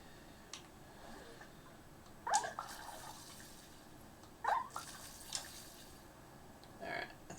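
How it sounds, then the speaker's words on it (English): Watering a plant with a watering can in the Wanderstop video game: soft splashing pours arrive in short bursts over a quiet ambient background, with a few light ticks and drips between them. "so I've got to water it again."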